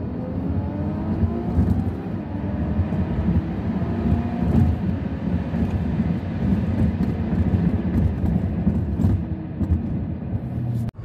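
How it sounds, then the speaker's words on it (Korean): A 2007 Renault Samsung SM7 3.5 RE with a 3.5-litre engine accelerates hard, producing a steady, loud interior engine rumble with rising tones throughout, plus road and wind noise and no talking. "저희가 극가속을 한번 해봤는데요"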